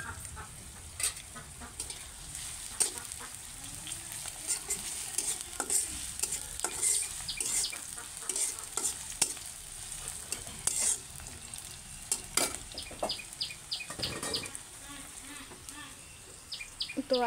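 Chopped onion and green chilli fry in hot oil in a wok with a constant close sizzle and repeated stirring scrapes, while hens cluck intermittently in the background.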